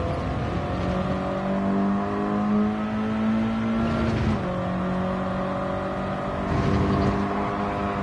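A racing-game race car engine held at high speed, a steady loud tonal whine with slight pitch shifts and a brief dip around mid-run, close and continuous with no talk.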